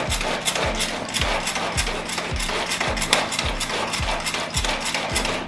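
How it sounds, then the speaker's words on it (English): Small handheld food processor mincing herbs and spices, a steady rhythmic run of churning, rattling pulses about twice a second over continuous whirring noise, loud and close. "I have my herbs and spices in my little handheld food processor"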